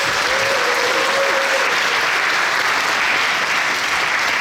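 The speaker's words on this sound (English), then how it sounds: "Give your guys a round of applause." A large audience at a charity culture night claps in a steady, dense wash of applause that holds loud and even from start to finish, with no voices standing out.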